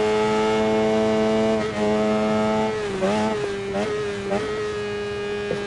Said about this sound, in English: Of course, we have got a stock exhaust on there as well.